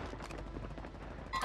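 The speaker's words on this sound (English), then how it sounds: "somebody sniped" Gunfire in the video game Warzone, including sniper rifle shots, crackles as a rapid burst of loud reports packed into about a second and a half, ending in a sharper metallic clack.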